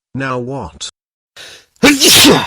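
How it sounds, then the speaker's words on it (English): A single sharp sneeze bursts out loudly and close after a brief spoken question and a short breath, its noisy blast and voiced tail filling the end. "did you just sneeze on my face?"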